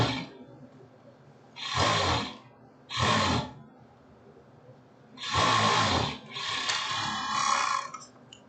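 An overlock serger stitching a silk blouse, running in several separate bursts of a loud, close mechanical whirring hum with quiet pauses between them.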